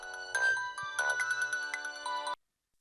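A mobile phone rings loudly with an incoming call, playing a bright melodic tone for about two seconds before stopping abruptly, with no talk.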